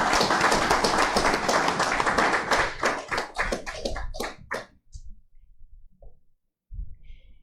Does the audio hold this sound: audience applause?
yes